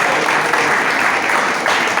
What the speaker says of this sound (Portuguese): Pode aplaudir novamente ao Senhor pela vida.